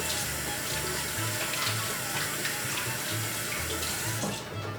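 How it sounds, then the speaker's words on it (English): Hands are washed under a running tap, with a steady close splash of water into a sink that continues without pause and fades slightly at the very end. "I'm gonna wash my hands first"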